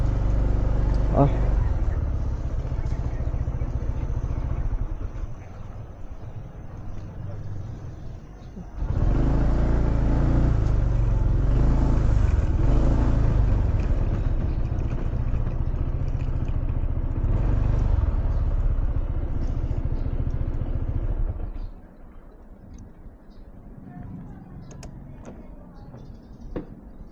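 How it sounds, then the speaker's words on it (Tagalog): A motorcycle's engine runs and rumbles loudly while the rider slows and parks in Old Gapan, Nueva Ecija, then drops to a quieter idle near the end. "Dito tayo paparada. Paparada ko motor."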